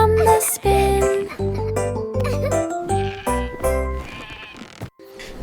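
Bleating sheep sounds are set into a children's nursery rhyme song, several loud, close bleats in quick succession over a musical backing.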